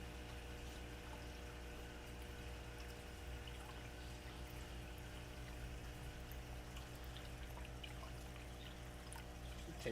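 Water pours steadily into a fish tank as it is filled, a low, continuous watery hum and trickle under a faint mechanical drone, with no speech.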